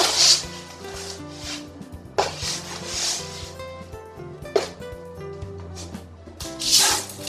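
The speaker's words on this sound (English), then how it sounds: "Try to stir it up just a tad with the soap." Homemade laundry detergent powder stirred together with soap, giving soft scraping, rubbing swishes in bursts over a faint background hum, close by, with no talking.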